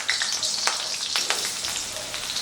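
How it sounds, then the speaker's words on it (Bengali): Diced potatoes hit hot oil in a pan for a jackfruit curry, giving a steady, close hiss of frying with small crackling pops and no voices. "এই আলুটাকে ভেজে নেব।"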